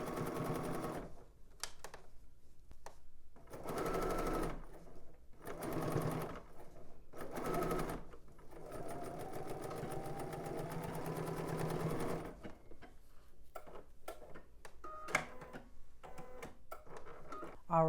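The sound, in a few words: sewing machine stitching the back seam of a tank dress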